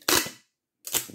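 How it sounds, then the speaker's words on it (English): Two sharp tearing rips of a tape gun pulling tape across a cardboard package, loud and close, separated by a brief silence. "And we get a tape gun"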